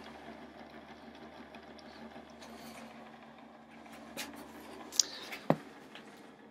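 A small homemade mini Bedini motor spins steadily on battery power, giving a faint, even whirring hum with no voices, punctuated near the end by two brief sharp clicks.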